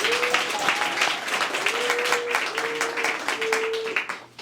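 An indoor crowd at a ceremony claps steadily for several seconds, a dense wash of applause with a few faint whistles or cheers rising above it before it fades.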